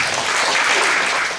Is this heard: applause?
yes